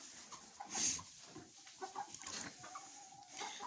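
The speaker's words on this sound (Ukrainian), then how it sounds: "О, щось півник там співав." A rooster crows while hens cluck around a poultry yard with laying nests, the crowing rising clearly over steady outdoor ambience and scattered clucks, no talk.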